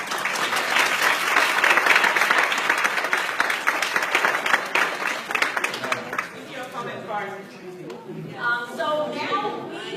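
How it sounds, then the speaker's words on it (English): Loud audience applause fills the room, steady and dense, then thins out into scattered claps and murmuring voices near the end. "Let's give them a round of applause."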